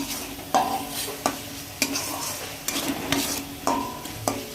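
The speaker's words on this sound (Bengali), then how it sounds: "মশলাগুলো কষাতে হবে।" Spices for a koi fish curry fry in a pan, with a steady sizzle under repeated metallic scrapes and clacks of a spatula against the pan, about once a second, close and clear, no talking.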